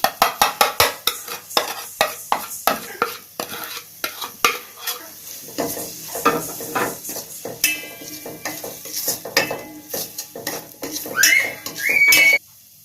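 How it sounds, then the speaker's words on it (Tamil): Egg biryani with biryani masala, turmeric, chilli powder and salt is stirred in a pot, a quick run of rhythmic scraping strokes of a spoon against metal over faint sizzling, ending in a short, louder clatter. "இப்போ பிரியாணி மசாலா, மஞ்சத்தூள், மிளகாத்தூள், உப்பு இது எல்லாத்தையும் போட்டு மிக்ஸ் பண்ணிடலாம்"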